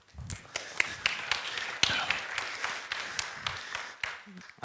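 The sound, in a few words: audience applause for a conference speaker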